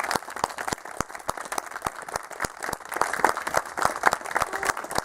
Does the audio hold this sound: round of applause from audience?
yes